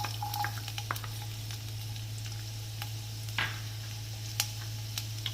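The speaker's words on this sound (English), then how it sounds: "The oil is already nice and hot. To this I am going to add the finely chopped garlic." Finely chopped garlic sizzles in about a tablespoon of hot oil in a pan for a fenugreek leaf sabji, giving a steady soft crackle with scattered sharp pops and a faint stir, no talking.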